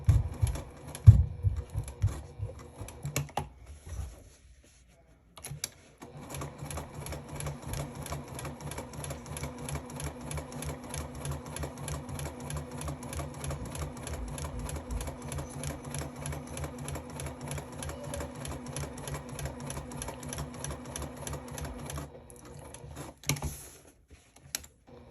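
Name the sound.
sewing machine stitching fabric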